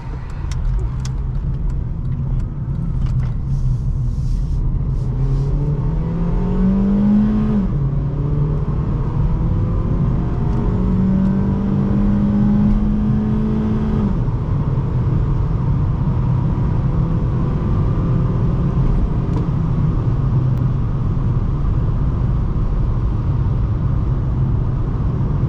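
A 2007 Honda Civic LX making a U-turn, heard from inside the cabin as a steady low engine drone and road rumble, with the engine pitch rising and easing a few times as the car accelerates through the turn.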